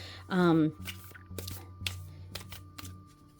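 A deck of cards riffled during a spread-creation session: one short, loud burst of rapid fluttering near the start, followed by soft handling taps and faint background hum.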